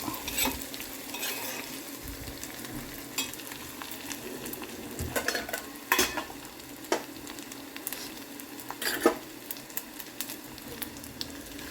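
Prawns frying in hot oil with cumin and tomato in a home kitchen, a soft steady sizzle with repeated stirring scrapes and clinks close by, no talking.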